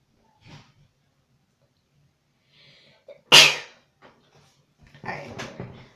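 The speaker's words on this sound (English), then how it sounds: "Sneeze." One sharp, loud sneeze bursts out near the middle, framed by quiet rustles and breaths, followed by softer snuffling noises.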